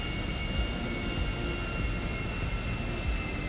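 A steady, droning aircraft engine roar in the game GTA 5 holds at an even level throughout, with a broad, continuous rumble and no breaks.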